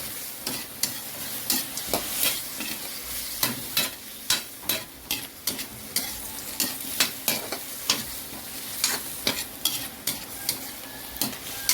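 Shrimp guisado frying in a pan, stirred with a regular rhythm of spoon scrapes and clinks over a constant close sizzle.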